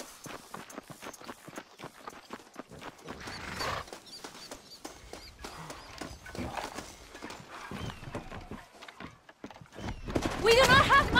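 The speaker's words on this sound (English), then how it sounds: "they are good horses" Horses walking along in Red Dead Redemption, a steady clip-clop of hooves with creaking tack under continuous game speech, growing louder and busier toward the end.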